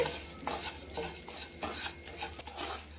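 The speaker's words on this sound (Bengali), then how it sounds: "চালটা ভালো করে ভেজে নিতে হবে নাড়াচাড়া করে" Gobindobhog rice is fried in ghee and stirred in a pan, with repeated scraping strokes and light clinks of the utensil over a soft, steady sizzle, no talk.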